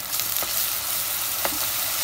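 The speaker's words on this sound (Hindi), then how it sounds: "अब उसको मैं अच्छे से भूनूंगी डालकर" Ground garlic and chili paste frying with onions in a pan for a turai chana dal sabzi, giving a steady close sizzle with a few soft stirring scrapes and no voices.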